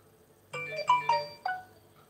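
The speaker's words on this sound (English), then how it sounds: "I'm just going to turn my phone off. Keeps bloody bleeping." A mobile phone gives a short series of bright electronic tones, about four rising notes, fairly quiet and alone against a hushed room.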